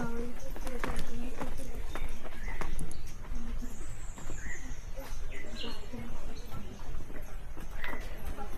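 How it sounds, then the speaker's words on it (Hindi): A horse cart at the Prachin Konkan museum in Ratnagiri gives off a steady clip-clop of hooves, with birds chirping nearby and people talking over it throughout. "घोड़ा गाड़ी"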